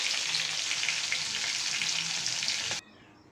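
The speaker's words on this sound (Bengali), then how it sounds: "দেখো, চিংড়ি মাছগুলো বেশ লাল লাল করে ভাজবো।" Shrimp fry in hot oil in a wok with a loud, dense, even hiss of sizzling, close up and unbroken, then it cuts off abruptly near the end into near silence.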